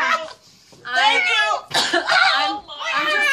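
A person coughs after taking a spoonful of ground cinnamon during a cinnamon challenge, several short harsh bursts up close between excited talk and laughter from other people.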